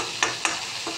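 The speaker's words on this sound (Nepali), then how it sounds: "अहिलेको लोकल टमाटर है, मजाले पाक्छ के टमाटरहरु" Local tomatoes cook in a pan for a Nepali masaura vegetable curry, giving a soft continuous sizzle broken by two or three short stirring scrapes, close and with no talking.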